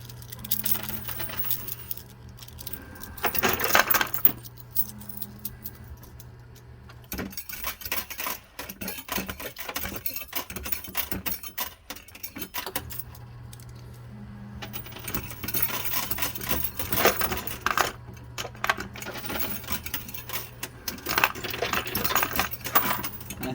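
Coins clatter and drop repeatedly in a coin pusher arcade game, bursts of metallic jingling that come and go in clusters over a steady low machine hum.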